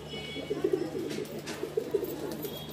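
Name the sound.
pigeon cooing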